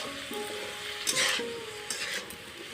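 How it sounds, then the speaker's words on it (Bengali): Cumin powder and a little chili powder sautéing in a pan, with a soft, steady sizzle and a few light stirring scrapes, close and fairly quiet, with no talking. "ভালো করে সাঁতলে নিই।"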